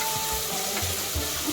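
Curry leaves sizzle in hot oil, a dense steady crackling hiss close up, with low bumps of stirring underneath and no voices.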